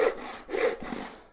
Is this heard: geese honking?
no